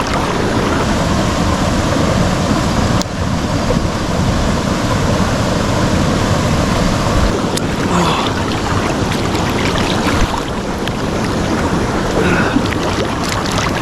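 A waterfall rushes in a Spanish village, heard up close as a steady, loud, broadband roar of pounding water with gusts of wind buffeting the microphone and no voices.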